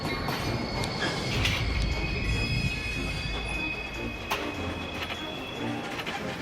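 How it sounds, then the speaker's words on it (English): Mile-long freight trains roll slowly through a rail yard outside Chicago, with steady rumbling wheels and high, sustained wheel squeals. The sound stays loud and close the whole time, and no one speaks. "Seeing these mile-long, slow-moving freight trains heading out of Chicago to the long-distance rail network"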